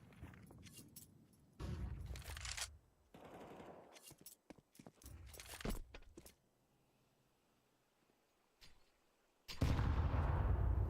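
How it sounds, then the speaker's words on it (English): Counter-Strike HE grenade blasts and gunfire in a competitive match, heard as loud bursts separated by quiet gaps, with a final heavy explosion that lasts to the end. "Deep HE grenade hits Santa for a bit of damage."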